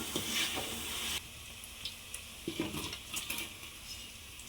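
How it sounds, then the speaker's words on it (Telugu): Paneer pieces frying to a light golden colour in a pan, a soft sizzle with a brief louder start, then light clinks and scrapes of a utensil against the pan, fairly quiet and close. "వీటిని లైట్గా గోల్డ్ కలర్లో ఫ్రై చేసుకుందాం."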